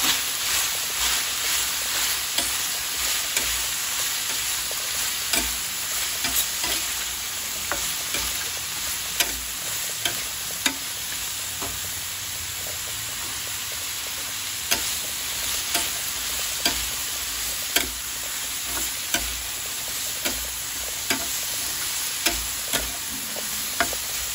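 Plenty of onions frying in a pan for pork steak, a continuous hiss of sizzling oil broken by regular clicks and scrapes of a utensil stirring through the pan.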